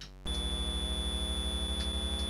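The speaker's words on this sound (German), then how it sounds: "Und das Piepsen übrigens, das ist im Spiel drin." A retro computer game's built-in beeping: a steady electronic tone with a rapid regular pulse, sustained and fairly quiet after a brief lower opening tone.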